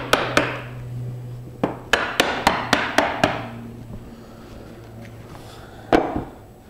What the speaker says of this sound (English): we're going to want to drive some nails in there